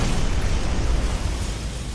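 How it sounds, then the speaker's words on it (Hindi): A dense, rumbling explosion roars and fills the space, a loud sustained blast that slowly fades over two seconds. "एक धमाका हुआ"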